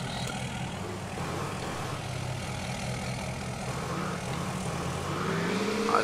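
Low engine drone of a 2018 Ford F350 with Banks performance parts, driven in the Spintires MudRunner video game, a steady rumble that swells slightly louder toward the end, with no talking.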